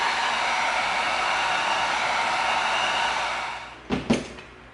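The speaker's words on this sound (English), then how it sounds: "Then when we bring in the addition of the heat gun" A heat gun blows steady hot air onto EVA foam to smooth a sanded corner, a loud continuous rushing hiss that fades near the end, followed by two short clicks or bumps.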